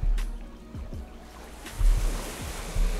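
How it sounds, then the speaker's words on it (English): Virtual surf from a Second Life beach, water washing and crashing against sand in soft repeated swells with a steady hiss, moderately near and alone without talk. "listening to that water crashing against the sand. So beautiful to hear."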